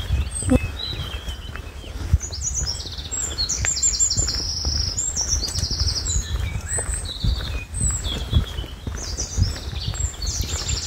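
Birds chirp and sing continuously in short bright bursts over a low outdoor rumble, several calls overlapping at moderate distance, on a walking route between Monreal and Puente La Reina, Spain.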